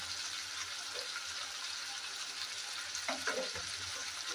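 Bengali-style chicken curry sautéing in a pan: a steady, close sizzle and frying hiss throughout, with brief stirring scrapes near the end and no talk.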